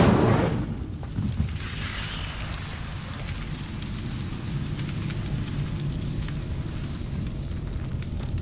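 A fire spell, Incendio, cast in the Hogwarts Legacy video game: a sharp burst at the start, then a steady roaring, crackling rush like burning flames that continues loud and even for several seconds, with no voices.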